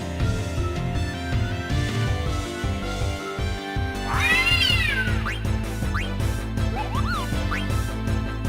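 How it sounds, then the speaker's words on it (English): A cat meows several times in Final Fantasy IX, with rising and falling calls clearly heard over steady, loud game music. "It's the kitty."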